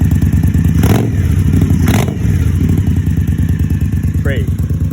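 Indian Scout Sixty motorcycle with Vance and Hines Grenades exhaust at a cold start, a loud, close, lumpy idle with two sharp blips of revving and a chattering exhaust beat throughout.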